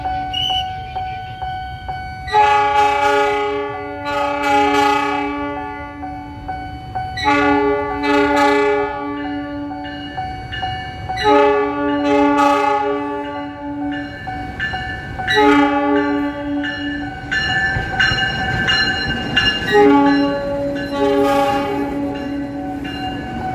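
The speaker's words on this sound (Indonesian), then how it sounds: "Kereta Api Pangrango." The Pangrango passenger train passes a level crossing in Indonesia, sounding repeated loud multi-tone horn blasts in a rhythmic series over the rumble and clatter of the passing cars.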